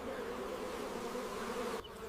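Honey bees buzzing in a steady, dense drone at moderate distance, continuous for about two seconds before cutting off abruptly.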